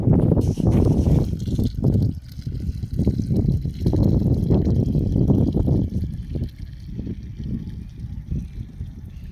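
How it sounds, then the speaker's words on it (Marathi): Jaggery water poured into a mix for a homemade soybean and jaggery crop tonic, a loud continuous splashing gush with a few uneven surges, close by and alone. "आता याच्यात आपण टाकूया गुळाचं पाणी"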